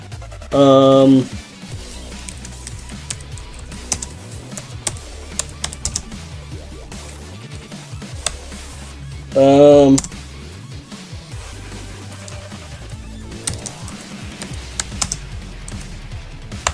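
A computer keyboard clatters with scattered clicks and key taps over a steady background of game music with two short tonal chimes, while a voice talks throughout.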